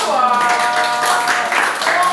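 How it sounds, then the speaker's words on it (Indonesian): A group claps steadily together in a classroom, with voices mixed into the bright, continuous applause. "Tepuk tangan buat kelompok 2."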